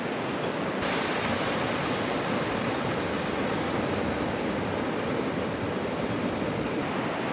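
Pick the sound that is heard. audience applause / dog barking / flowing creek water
flowing creek water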